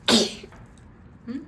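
One sharp, close human sneeze bursts out at the start and fades quickly, followed by a short murmured voice.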